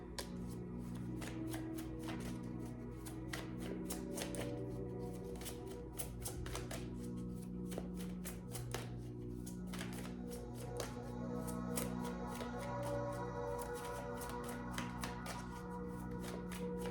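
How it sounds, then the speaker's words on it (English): Tarot cards shuffled by hand, a steady run of soft riffling taps and flutters over a constant low hum, close and fairly quiet. "Shuffling for Capricorn."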